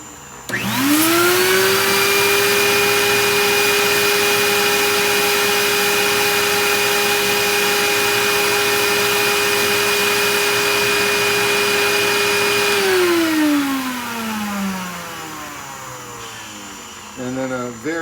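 A record-cleaning vacuum drawing the fluid off a dirty vinyl record, a loud steady whine that runs for about twelve seconds, then winds down and fades to a brief clatter at the end.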